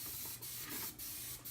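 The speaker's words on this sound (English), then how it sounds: "You're gonna get a little bit of cooking non-stick spray." Cooking non-stick spray hisses from a can in a near, steady spray, broken into a few short bursts by brief pauses.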